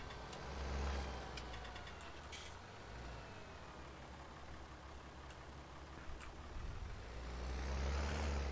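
A tractor engine in Farming Simulator 19 runs with a low, steady drone, swelling louder at the start and end, with faint ticking clicks layered over it and no talking.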